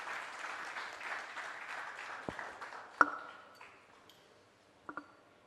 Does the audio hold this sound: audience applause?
yes